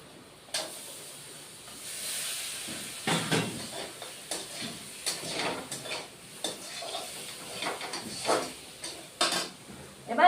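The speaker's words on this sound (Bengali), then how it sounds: "জল দিয়ে দিচ্ছি" Water pours into a hot pan of frying potato and paneer posto cooked with poppy seed paste, cashews and raisins, setting off a loud hiss and sizzle with scraping stirs and clinks of the utensil throughout.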